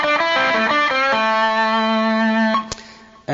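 A distorted electric guitar plays a minor pentatonic lead phrase: a few quick notes in succession, then one long sustained note that rings out before being cut off with a short click.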